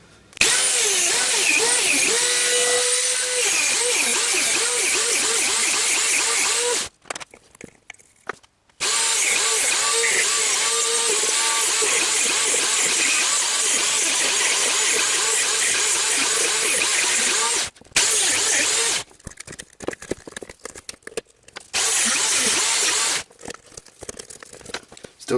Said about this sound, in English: when using a Dremel cutting disc, wear some safety goggles